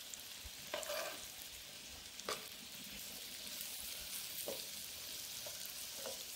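An egg sizzles and fries steadily in a hot pan after being flipped, a constant crackle with a few sharper spits and pops scattered throughout, close by and without any talking.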